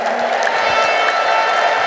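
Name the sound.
church congregation applause and ululation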